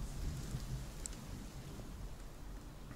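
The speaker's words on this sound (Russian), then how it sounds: "Громыхать, громыхает, но дождь не идет." Faint low rumbling of distant thunder in the video game Palworld beneath a soft outdoor hiss, quiet and continuous with no speech.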